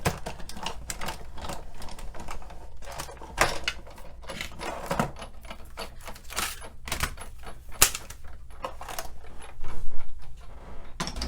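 A Stampin' Up! compact embossing machine presses a card through a subtle embossing folder, giving a steady series of close mechanical clicks and ratcheting thumps with a few louder knocks and no talk.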